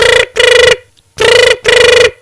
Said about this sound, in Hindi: फोनो न उठाबै छे। देखो कते घंटी गेले, भर गाम में लोग सुनना हेते।